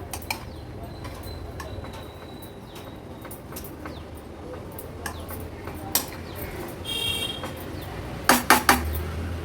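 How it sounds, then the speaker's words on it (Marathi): Kitchen clatter while green chilli, coriander and salt are mixed in a bowl: scattered clinks of a spoon against the dish, louder ringing knocks near the end, with quiet background sounds between. "चवीप्रमाणे मीठ ॲड करूया व्यवस्थित मिक्स करून घ्यायचं आपल्याला"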